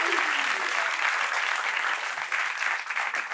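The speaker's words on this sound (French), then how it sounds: "Applaudissements pour vous-même, chers amis." Steady audience applause filling a studio talk show, dense clapping that stays loud and even for a few seconds before thinning slightly toward the end.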